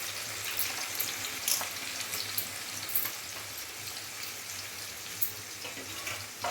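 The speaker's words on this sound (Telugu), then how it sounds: "నీళ్ళు కాగుతున్నాయి కదండి" Water heats in a pot while jackfruit biryani is cooked, giving a soft, steady bubbling hiss with scattered crackles and small pops throughout, close by and with no talking.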